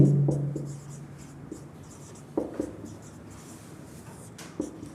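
Marker or chalk scratching across a board during a Hindi-language math lesson on triangles, with intermittent strokes and short taps at close range, a faint low hum beneath, and no one speaking.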